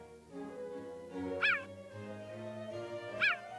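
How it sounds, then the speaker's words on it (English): A cheetah gives two high, squeaky chirps, rising and falling in pitch, about two seconds apart. Steady background sound and rumble run under them. "There's the cheetah, fearsome predator. But when it talks, it sounds a bit like a mouse trying to rev a tiny lawnmower."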